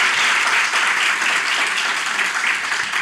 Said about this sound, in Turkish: Kocaman alkış!